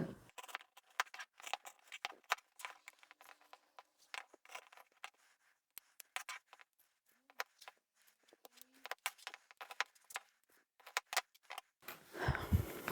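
Scissors snipping the corners out of layered fabric swatch samples, a series of close, crisp cuts in irregular bursts with quiet pauses between, ending in a rustle of handling.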